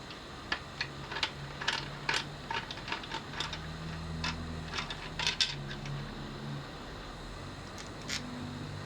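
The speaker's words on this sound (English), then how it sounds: "Then use an Allen key to remove the top cap." An Allen key works the top cap of a Cannondale Synapse bicycle headset, giving a series of small, close metallic clicks and ticks at an irregular pace over faint background hum.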